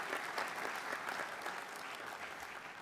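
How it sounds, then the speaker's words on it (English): An audience at a US mayors' conference plenary session in Dallas gives a round of applause for a platinum sponsor: a continuous, even wash of clapping from many hands, faint and distant, with no talk. "Can we give them one round of applause for their commitment?"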